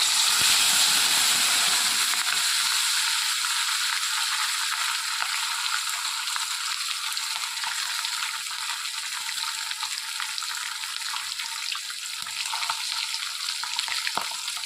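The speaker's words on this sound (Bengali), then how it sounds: "তেল গরম হয়ে গেছে, এরপরে বাটা মাছ ভেজে নেব, একটা একটা করে ভেজে নেব।" Bata fish fry in hot oil for a mustard curry, producing a loud, bright, continuous hiss and sizzle that starts strongest and then settles, with scattered small crackles and pops close by.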